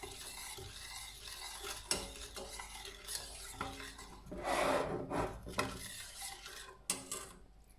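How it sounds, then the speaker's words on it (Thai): A sauce is stirred in a pan as it heats toward a boil, giving close rasping scrapes and soft bubbling sizzle that swell into a louder burst midway, with occasional utensil knocks. "ก็คนให้ตัวซอสของเราเนี่ยละลายดีนะคะ แล้วก็ ให้ซอสของเราเดือด"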